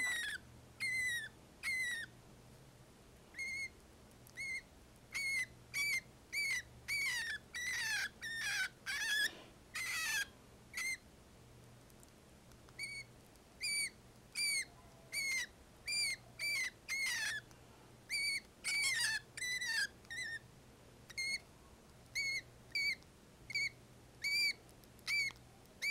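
A baby parakeet chick gives rapid, high-pitched chirping cries in repeated bursts while being hand-fed. The cries sound close but fairly quiet, with a faint low hum underneath.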